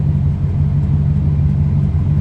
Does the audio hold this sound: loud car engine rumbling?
yes